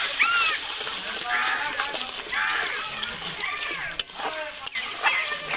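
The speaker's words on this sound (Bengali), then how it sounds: "দই দেওয়ার সাথে সাথেই ভালো করে নাড়াচাড়া করতে হবে।" Spice paste and sour yogurt are stirred in a pan for a Bengali doi katla curry made with fresh katla fish. Wet squelching and scraping strokes repeat in an uneven rhythm, close and fairly loud, with a few sharp knocks.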